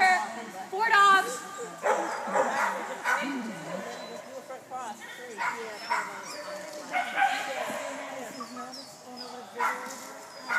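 Several dogs at a steeplechase trial bark and yip in short excited bursts, with whimpers between, while people talk nearby.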